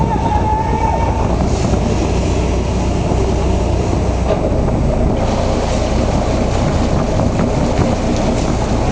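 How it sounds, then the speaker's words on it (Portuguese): Sea waves surge and roar through a blowhole cave on the coast of Fernando de Noronha, a loud continuous rushing wash of water and wind with no clear breaks. "O suspiro é que provoca o som. É uma caverna que tem ali. Aí a água vem e enche"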